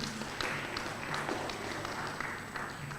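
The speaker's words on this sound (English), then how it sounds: "Can we have a round of applause for him?" An audience at a neurosurgery conference breaking into applause, a faint, steady patter of many hands clapping heard from a distance.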